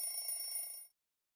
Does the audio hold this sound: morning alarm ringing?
yes